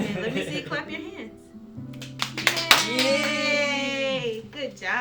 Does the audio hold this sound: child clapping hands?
yes